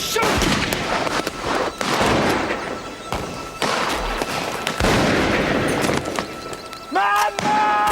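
Gunshots during a hunt, sharp bangs and thuds going off repeatedly and close by amid shouting voices.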